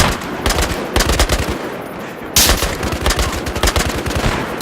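Rapid bursts of automatic gunfire and scattered single shots from a Battlefield video game battle, loud and close, continuing throughout with no pauses.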